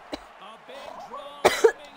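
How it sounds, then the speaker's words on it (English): A person coughs several short, sharp times from a tickle in the throat, quick bursts spaced out over a couple of seconds between quiet speech, close and fairly loud. "I'm sorry for coughing. I have like a tickle in my throat."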